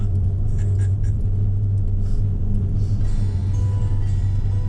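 Car cruising along a road on an easy drive in Hawaii, a steady low engine and tyre rumble that holds evenly and close throughout with no pauses.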